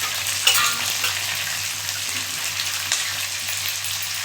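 Pirandai stalks and tomato sauté in a hot pan for chutney, giving a steady close sizzle and frying hiss with occasional stirring scrapes, continuous throughout with no talking.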